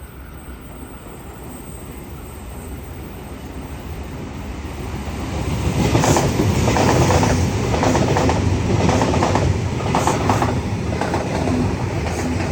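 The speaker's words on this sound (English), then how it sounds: "It is the last built of the Series 2 Waratah fleet. Set B41 off to the City Circle." A Sydney Trains Series 2 Waratah set departs a station, its rumble building into a loud, steady roar with rhythmic wheel clatter on the rails, close by and alone.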